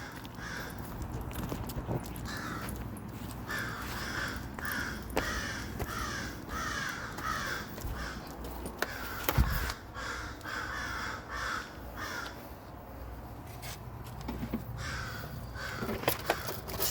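A flock of crows caws insistently outdoors during a dog walk, harsh repeated calls overlapping in rapid bursts, fairly near, with light footsteps and scuffs underneath.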